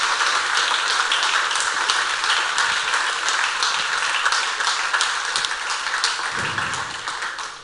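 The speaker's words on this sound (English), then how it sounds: "Huge round of applause" A DjangoCon 2022 conference audience gives a huge round of applause, loud and sustained clapping from a large crowd that stays full throughout before easing off slightly at the end.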